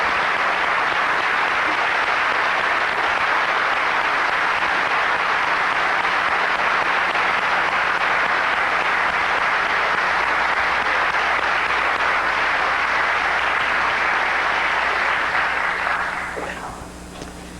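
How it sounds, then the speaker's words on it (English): Sustained, loud applause from a large audience at a governor's State of the Commonwealth address in a legislative chamber, steady for about sixteen seconds before tapering off at the end. "These people deserve our respect and our applause"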